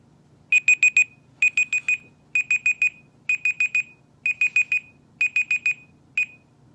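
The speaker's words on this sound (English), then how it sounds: "I'll just set a 5-second timer." A Soyes XS11 smartphone timer alarm sounds loud and close: crisp electronic beeps in quick bursts of four, repeating about six times at a steady pace, then one last short beep.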